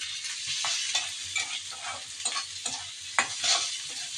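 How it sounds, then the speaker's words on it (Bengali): Shrimp frying in a pan for a dry curry, with a constant close sizzle broken by repeated scraping stir strokes and occasional sharper clicks. "এদিকে আমি চিংড়িগুলো একটু ভেজে নিচ্ছি"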